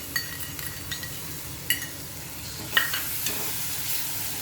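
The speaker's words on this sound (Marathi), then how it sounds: "चांगलं तेल सुटेपर्यंत आपल्याला हे परतवून घ्यायचं आहे" Curd being stirred into a curry in a frying pan, soft sizzling under a few sharp scrapes and clinks of a spoon against the pan, fairly close.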